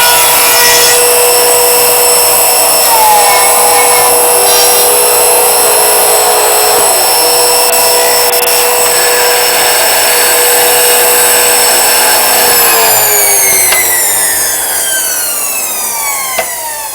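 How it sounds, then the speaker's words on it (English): A mouse hole router bites into a wooden piece, a loud, steady, high whining cut with tonal machine hum that runs continuously and shifts in pitch near the end as the tool winds down. "activate the foot pedal, which brings the mouse hole router down"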